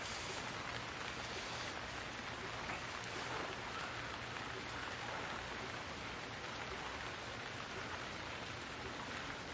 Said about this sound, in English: Oh, come on, rain, stop so I can see.